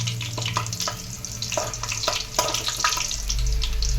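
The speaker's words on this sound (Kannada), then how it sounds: "ಸೊ ಎಣ್ಣೆ ಕಾಯ್ದಿದೆ, ಅದಕ್ಕೆ ಒಣಮೆಣ್ಸಿನ್ಕಾಯಿ ಆ್ಯಡ್ ಮಾಡ್ತಾಯಿದ್ದೀನಿ" Dried red chillies sizzling in hot oil in a pan: a steady close frying hiss with crackles and pops, growing louder toward the end, no speech.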